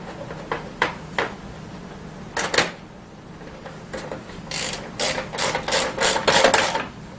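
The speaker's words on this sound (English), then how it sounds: "Just snug them up with the 8mm ratchet." An 8mm ratchet snugs up bolts while a Tao Tao CY50D scooter is assembled: a few scattered clicks at first, then a denser run of quick, crisp ratcheting strokes close by, with no talk.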